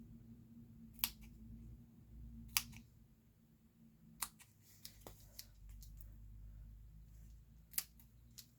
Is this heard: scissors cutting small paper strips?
yes